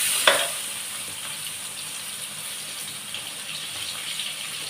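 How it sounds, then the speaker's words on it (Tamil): Onions and curry leaves fry in a pan for fish curry, a steady hissing sizzle that opens with a brief sharp clatter as they drop in, then settles into an even, moderate crackle. "வெங்காயம் கருவேப்பிலை போட்டுக்கிறேன்."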